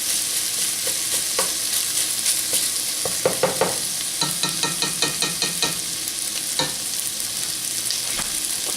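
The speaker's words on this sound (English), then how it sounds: "you can just keep frying it with the bacon's natural grease" Steady sizzling of bacon frying in a pan, with scattered pops and a few scraping stirs near the middle, close and moderately loud.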